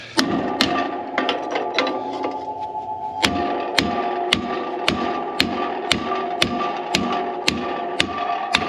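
A hammer strikes metal farm equipment in sharp, ringing blows, a quick flurry of light taps followed by a steady series of evenly spaced loud hits, close by over a low background hum.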